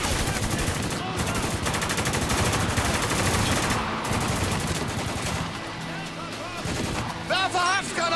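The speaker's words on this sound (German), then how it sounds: "Was schießt hier denn?" Gunfire in the war shooter Spec Ops: The Line: dense, loud bursts of automatic fire and shots running almost without pause, with a short burst of other effects near the end.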